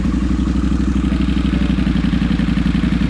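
Triumph Speed 400 single-cylinder motorcycle engine running steadily with dB reducers fitted in the exhaust, a loud, close, even throb with a rapid pulsing beat and no talk.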